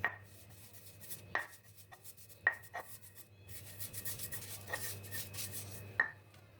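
Toasted coconut serundeng is ground in a stone ulekan, giving a soft continuous scraping rub broken by several sharp knocks of stone on stone, close and quiet, with no voices.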